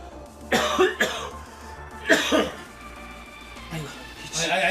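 Coughing fits from someone who choked on a misutgaru (roasted grain powder) drink, three harsh bursts spaced about a second and a half apart, close and loud, with a faint hum underneath.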